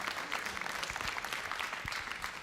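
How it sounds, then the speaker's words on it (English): Audience applause at a senior banquet for a graduating class, a steady wash of many hands clapping at moderate distance, continuous throughout without any voices standing out. "Let's give them a round of applause."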